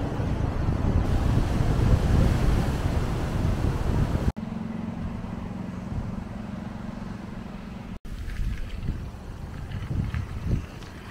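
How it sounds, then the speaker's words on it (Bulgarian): Strong coastal wind on Isla Mujeres, Mexico, roaring as steady broadband buffeting against the microphone, loudest at first, then easing through two abrupt cuts into gentler gusty rushing. "защото е доста ветровито"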